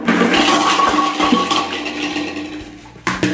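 A toilet flushing loudly and close, a steady rushing gush of water swirling down the bowl for about three seconds, then a sharp clunk near the end.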